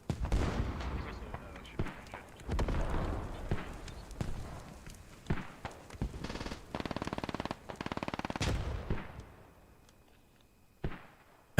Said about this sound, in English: I think these mortars have created some issues back here